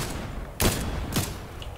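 Gunfire in the video game Fortnite comes as two sharp, loud shots about half a second apart over a steady background of game noise.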